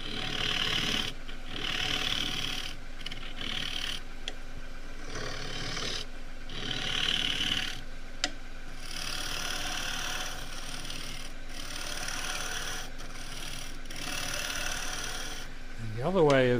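A spinning turned wood stool seat on a lathe is rubbed in a steady rasping hiss with rhythmic pulses, over a low motor hum.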